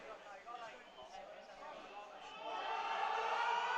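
Crowd at a powerlifting meet, voices rising into loud, sustained cheering and shouting that swells toward the end, heard from across the room.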